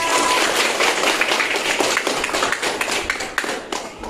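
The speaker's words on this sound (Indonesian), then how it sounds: "Tepuk tangan Safia." Children applaud in a classroom during a religious studies lesson, a steady dense patter of small hands clapping for about four seconds, close and fairly loud.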